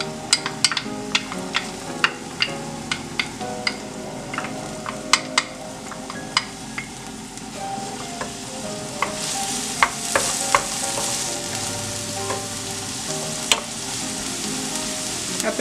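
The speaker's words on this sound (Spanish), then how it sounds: "Es un poquito nada más para freír la cebolla." Onion frying in a little oil in a pan, a continuous close sizzle with sharp spoon clicks and scrapes against the pan at a regular pace throughout.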